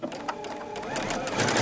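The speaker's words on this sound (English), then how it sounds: "I'm gonna lower my presser foot and hit my gas pedal down here and go." A Baby Lock Tru Stitch sewing machine stitching fabric, a steady fast mechanical whir of needle strokes that speeds up slightly, close and alone.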